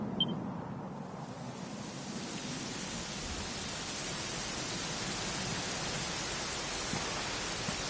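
Steady, dense rain falls in a Dragon Quest XI game scene, a constant even wash of hiss that fills the whole stretch with no breaks and no voices.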